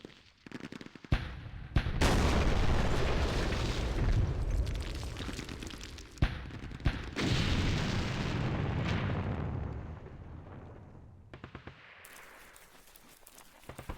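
Airstrike explosions in the Vietnam war game Campaign Series Vietnam: heavy, rumbling blasts roll in loud and near, merging into a sustained roar with sharp cracks through the middle, then fading into scattered smaller pops.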